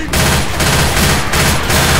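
The player's gun fires continuously in the Left 4 Dead 2 video game, dense rapid bursts of loud close gunfire running throughout with brief dips in the rattle, no talk over it.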